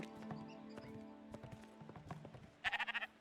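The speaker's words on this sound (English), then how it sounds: "You got a sheep!" A sheep in the Spiritfarer video game gives a short, wavering bleat at the end, after a stretch of light clip-clop footsteps and soft game tones.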